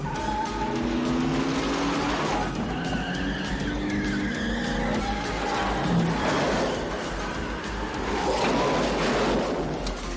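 A car skids with tyre squeal and then drives off during a film's police chase, the engine loud and close throughout, with scattered screeches and engine roar over constant background action sound.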